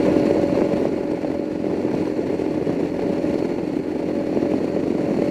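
A heavily modified Royal Enfield Himalayan dirt bike engine drones steadily at around 65 mph and 5,500 rpm, a continuous loud buzzing hum with road and wind noise and no talking.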